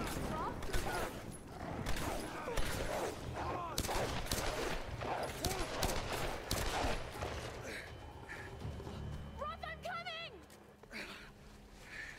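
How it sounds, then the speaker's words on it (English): Bursts of distant gunfire crackle in the background of a Tomb Raider (2014) game soundscape, rapid and layered, fading into quieter ambience and electronic tones near the end. "Distant gunfire."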